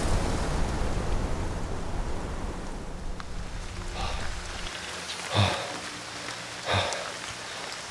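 Steady rain falls in Norway as a continuous wash of hiss, loud at first and then easing, with a couple of brief thumps near the end.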